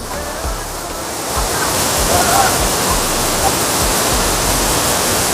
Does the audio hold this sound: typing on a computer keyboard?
no